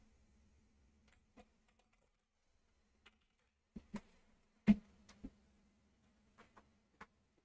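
Sparse keystrokes tapped on a computer keyboard while entering shortcuts for Elixir code, isolated clicks with a few quick doubled taps amid quiet pauses.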